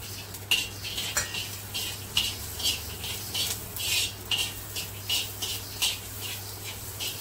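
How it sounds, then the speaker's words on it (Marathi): Peanuts go into hot oil in a pot on a wood-fired stove for a drumstick curry, followed by faint, irregular metal clinks and scrapes of stirring against a quiet background hum. "आता मी थोडीशी शेंगदाणे टाकते बघा"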